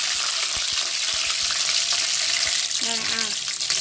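Loud, steady sizzling of curry leaves dropped into hot oil, with sharp crackles and spatters throughout and a brief scrape near the end.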